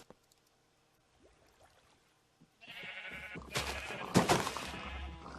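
Sheep in the Minecraft video game bleat in a short, bright burst over a busy game-sound bed, following a quiet stretch with faint scattered noises.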